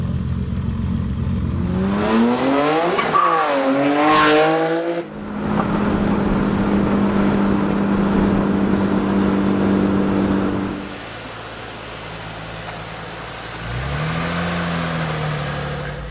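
A Nissan Fairlady Z fitted with an R35 GTR exhaust is revved hard in sharp rising and falling blips, then settles into a loud idle that later quiets to a low rumble with one more small rev, close by.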